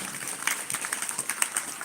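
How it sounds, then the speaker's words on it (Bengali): An audience claps steadily at a kirtan concert, a dense, fairly quiet patter of many hands that holds evenly for a couple of seconds with no voices on top. "তার জন্য একটু জোরে হাততালি"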